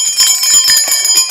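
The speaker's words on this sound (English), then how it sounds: "I just wanted to ring the bell" A small handheld bell rings loud and close in a quick run of repeated bright strikes, alone with no talk.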